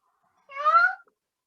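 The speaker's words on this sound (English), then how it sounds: "The big cat!" A single cat meow, clear and fairly close, rising and falling over about half a second, heard alone with no talking.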